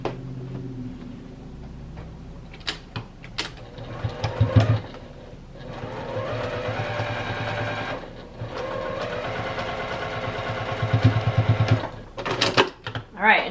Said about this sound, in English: we just sewed through both sides